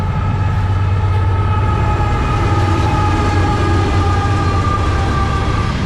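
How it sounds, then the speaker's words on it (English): A train rolls past near a railroad track at a campsite, a loud, continuous rumble with steady ringing horn-like tones sustained throughout. "yeah, train."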